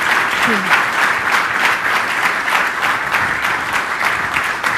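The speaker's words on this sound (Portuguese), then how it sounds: "um forte aplauso, por favor, para os nossos convidados" A room full of attendees applauds the guests at the closing of a conference forum on Mozambique's future, a strong, steady wash of clapping that stays loud and even from start to finish.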